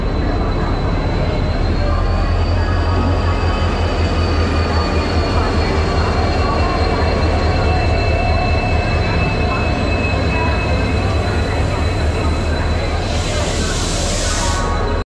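The 12837 Howrah–Puri Superfast Express stands at a station platform, giving off a loud, steady rumble with droning mechanical hum and faint high whining tones that continue without a break.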